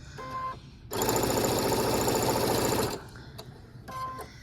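Sewing machine stitching quilt fabric pieces for a Midnight-colored Cotton Cuts mystery quilt, a loud, steady run of rapid stitching lasting about two seconds, bracketed by quieter machine hum and brief handling noises before and after.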